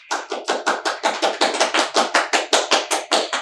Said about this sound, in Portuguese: vamos bater palmas para o Max, primeiro lugar